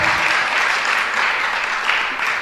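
An audience claps steadily and loudly at a Jain religious question-and-answer gathering with Sudha Sagar Ji Maharaj, a dense, even applause that lasts the whole moment.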